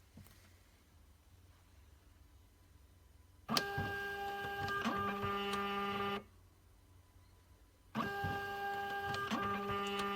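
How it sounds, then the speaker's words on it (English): An FP Mailing Postbase Mini franking machine runs its ink cartridge cleaning cycle, giving two long mechanical whirring bursts with clicks and tonal motor hum, separated by a quiet pause. "the machine is now performing maintenance and cleaning the cartridge"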